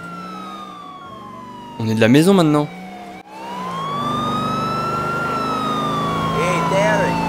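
A police car siren in GTA IV rises and falls in long sweeping wails under a steady engine drone, with a short burst of a harsher yelp tone and brief talk in French.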